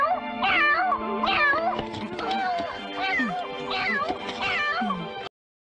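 A cat meows repeatedly, a series of loud, close, drawn-out cries in quick succession, with no other sounds around it.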